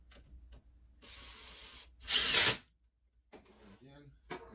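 A power drill drives a screw deep into a wavy wood flag's boards in one loud, close burst of about half a second, with quieter workshop handling before and after.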